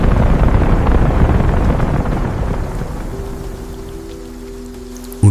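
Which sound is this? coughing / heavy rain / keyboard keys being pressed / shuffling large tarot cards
heavy rain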